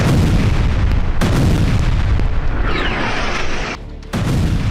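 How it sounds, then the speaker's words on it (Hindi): Heavy, rumbling blasts from bombing in Gaza roll on continuously, loud and dense, with deep booms layered over one another and a brief dip before another surge. "रोज बमबारी हो रही है"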